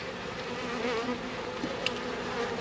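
A steady, moderately loud hum of many honey bees fills the air during a package installation, continuous and even throughout with no talking.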